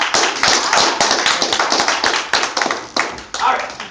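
Audience clapping at a taekwondo demonstration, a dense, lively burst of many hands with sharp individual claps standing out, steady and fairly loud throughout, with voices mixed in.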